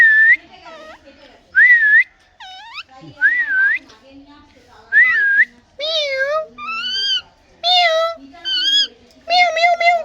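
A pet parrot whistles a song in a string of clear, close, bright rising and falling phrases, separated by short pauses, with a few squeaky notes between them.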